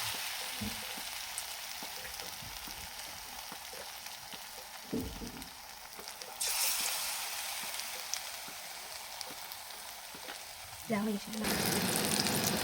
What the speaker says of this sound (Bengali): এটাকে ভেজে নিতে হবে